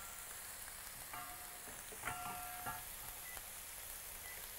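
Shrimp frying in oil in a pan, a soft steady sizzle with faint clinks of a utensil against the pan partway through.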